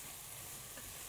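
Chicken with onion, mushrooms and garlic frying in a pan, giving a steady, even sizzle with constant hiss and no voices.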